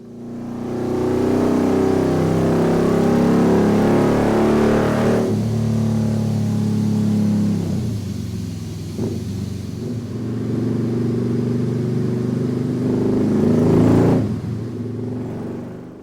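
A Honda Monkey JB03 motorcycle with a Kitaco 145 engine revs on a dyno, a loud sustained engine roar rising and falling through several throttle blips over about sixteen seconds, with no talk.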